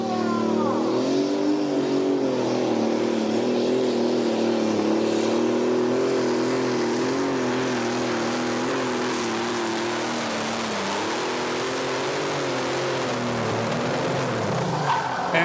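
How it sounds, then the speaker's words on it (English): A limited Superstock pulling tractor roars through its run at a tractor pulling event, its engine a loud, sustained drone whose pitch holds high, dips briefly, then climbs again without letup. "he's bringing the Never Done limited Superstock tractor with him"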